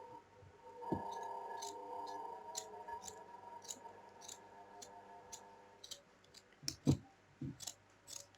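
Scissors snip away a piece of material, giving a series of small sharp clicks and cuts spread out with quiet pauses between them, close and fairly faint.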